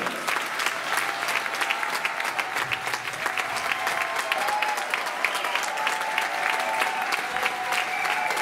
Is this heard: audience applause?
yes